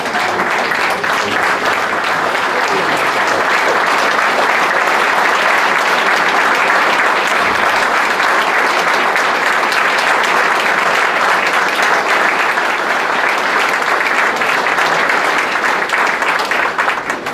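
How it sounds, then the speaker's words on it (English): A large hall of fame crowd at a Greco-Roman wrestling ceremony gives a sustained standing ovation, dense loud clapping steady throughout with no talk over it. "Will you ask that crowd to give a standing ovation to Alan and Gloria Rice?"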